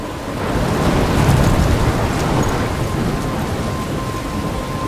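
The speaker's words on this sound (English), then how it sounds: "I'm trapped in a storm?" Heavy rain pours in a thunderstorm in Life Is Strange, with a low rolling rumble of thunder swelling in the first seconds under a loud, continuous downpour.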